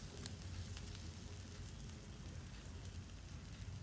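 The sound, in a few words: sliced onions sautéing on medium flame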